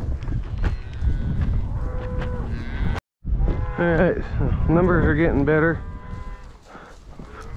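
Cattle being sorted on a ranch moo repeatedly, several loud, drawn-out bellows close by, with a rider's voice talking over them and hooves and movement in the background.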